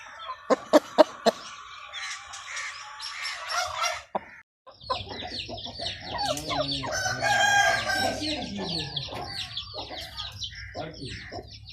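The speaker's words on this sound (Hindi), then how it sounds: "ये सामने आपके सारे असील मुर्गियाँ हैं" Aseel hens and roosters on a farm cluck in sharp bursts, then a rooster crows loudly over a low hum, with more clucking around it.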